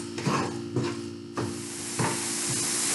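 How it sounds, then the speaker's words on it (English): Onions cooking in olive oil in a pan for minced-meat meatballs, a steady sizzle broken by four or five soft scraping stirs at regular intervals, close and moderately loud with no talk. "We're going to roast the onions."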